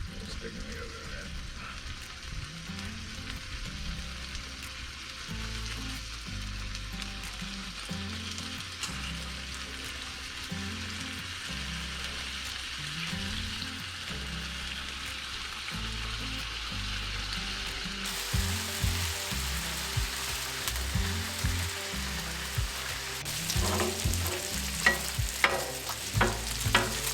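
Bacon frying on a Blackstone griddle, a steady close sizzle and crackle with scraping stirs and tool taps over it, growing busier toward the end while someone talks in the background.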